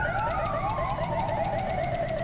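A steady electronic ambulance siren in the Grand Theft Auto 5 game, a rapid repeating wail with a sweeping tone, loud and continuous throughout.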